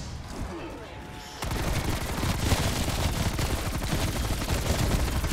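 Gunfire in Call of Duty: Black Ops Cold War Zombies, a sudden onset of dense, rapid automatic shots that stays loud and continuous for several seconds after a quieter opening.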